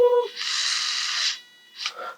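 An electric precision screwdriver spins at a torque setting with a steady high buzzing whine for about a second, then cuts out and briefly restarts with a short burst, preceded by a moment of voice.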